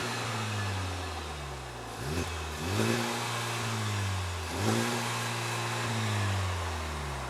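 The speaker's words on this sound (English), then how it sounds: "The triple exhaust, I'll let you guys hear what that sounds like real quick." Honda Civic Type R with a triple exhaust revved while stationary: a steady idle broken by two sharp throttle blips that rise and fall, sounding fairly subdued and close by.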